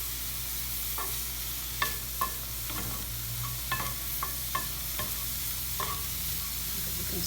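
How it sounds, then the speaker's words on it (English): Mixed mushrooms, garlic and onions sauté in a hot pan with a steady soft sizzle, broken by occasional scrapes and clicks from stirring, close and fairly quiet with no voices. "I'm going to saute this for a couple of minutes until everything starts to get fragrant and browns a little bit."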